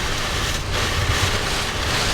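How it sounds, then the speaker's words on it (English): Strong wind roars across the salt flats, a loud, unbroken rushing buffet with low rumbling gusts through the whole stretch. "it's so windy"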